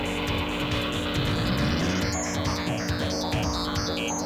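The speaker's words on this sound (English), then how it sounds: "Just redlining it. Listen to that car." A sports car engine in a racing video game revving near redline, a loud, continuous synthetic whine with rising pitch that keeps stepping through tones, close and dense throughout.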